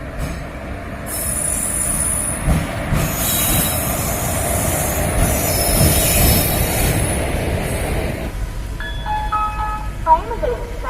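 Train at Villupuram railway station in Tamil Nadu, a loud steady rumble of wheels and cars with high metallic squealing, then sharper brake or wheel squeals rising near the end, with faint voices in the background.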